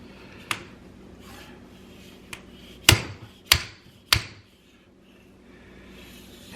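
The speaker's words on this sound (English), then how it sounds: "I'm going to use this old collar here, the old bushing anyway, to just get my fork seal into place and I don't damage it that way." An old bushing taps a seal into a Norton Commando motorcycle fork, giving sharp metallic knocks close up: a few light taps followed by three harder, evenly spaced blows, with quiet pauses between them and no talk.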